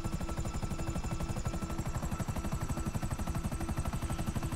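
The Cargobob helicopter in GTA Online thuds steadily with fast, even rotor chops, moderately loud and continuous, with a faint engine whine above and no voices.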